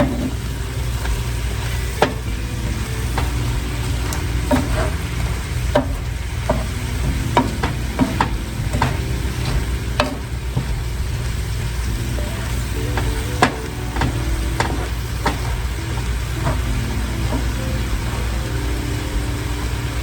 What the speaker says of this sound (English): we're just gonna let this cabbage cook down